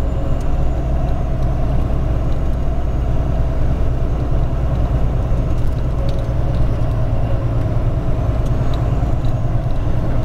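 A truck with oversized side mirrors rolls steadily along a narrow road, a loud, constant low engine rumble with road noise and no pauses.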